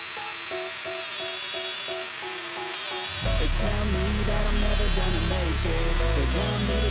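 A domino joiner cuts mortises in a wooden coffee tabletop, its motor whining steadily before a louder, rougher cutting buzz kicks in halfway and continues, with music playing underneath.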